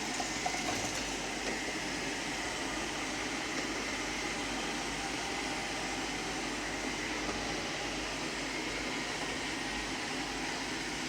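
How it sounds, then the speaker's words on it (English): A Eufy C28A Omni robot vacuum cleaning around a house, under an office chair and a table: a steady, unbroken whirring drone with a hissy airflow wash, holding even throughout with no speech. "Now we have it going around doing a hoover in the house, cleaning up all the dirt"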